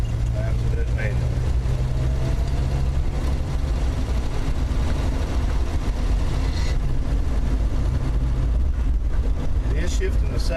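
A Plymouth Valiant driving with a steady, loud low engine rumble and road noise as it is shifted manually, while someone talks over it.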